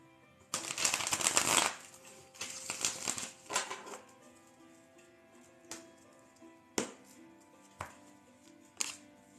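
Rapid riffling tarot card shuffles in a couple of dense bursts, then a series of single sharp card snaps spaced apart, close and crisp.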